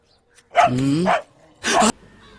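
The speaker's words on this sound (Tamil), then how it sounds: "நம்ம நாய் என்னைக்கு இப்படி குலைக்குது" A pet dog barks twice nearby, a longer drawn-out bark followed by a short sharp one, loud and clear against a quiet background.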